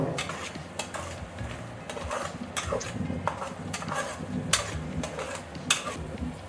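Green chillies stirred and fried in a pan for crab curry, mostly repeated metal spoon scrapes and knocks against the pan in an irregular rhythm over a faint sizzle, close and quiet, with no speech.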